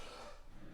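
A single short, rough cough from a person, close and brief, standing alone with nothing else around it.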